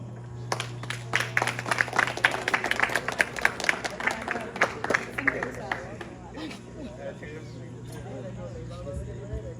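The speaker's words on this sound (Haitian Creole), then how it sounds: "Sur vos applaudissements" Audience clapping at a Haitian birthday celebration honoring James Boyer Lambert, a burst of dense applause over steady background hum, gradually thinning out as voices and crowd noise continue.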